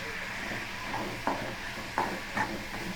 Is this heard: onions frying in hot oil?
yes